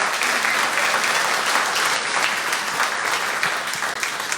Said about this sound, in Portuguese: Pode aplaudir Jesus por essa palavra